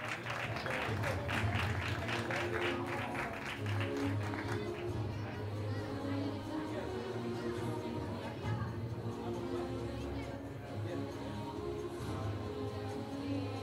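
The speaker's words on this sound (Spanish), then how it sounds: "fuerte aplauso para Rafael Pulido Ceballos y Carolina Linares" Crowd applause for the M50 category winners at the Desafío Pinar Extremo race awards, steady clapping with crowd murmur throughout, loud and sustained, with a voice over a PA early on.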